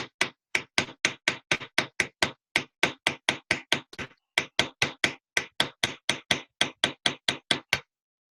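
A hammer strikes a big chisel in chasing and repoussé metalwork, landing about thirty sharp, evenly paced metallic blows in a steady rhythm with one brief pause, close and loud with no talking.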